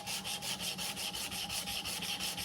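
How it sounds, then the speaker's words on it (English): Steady back-and-forth hand sanding on a 5160 steel pick-handled knife, close and continuous with an even rhythmic rasp of about four strokes per second, no talking. "we're just hand sanding my pick-handled knife"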